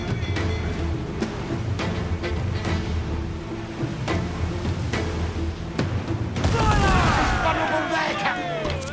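Ship cannons boom in a broadside during a naval battle in Assassin's Creed IV Black Flag, a run of loud, rapid blasts followed by a heavier crashing volley, with crew shouting over the gunfire.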